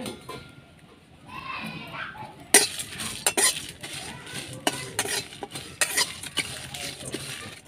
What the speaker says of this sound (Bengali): এগুলো একটু শুকনো খোলায় ভেজে নিচ্ছি।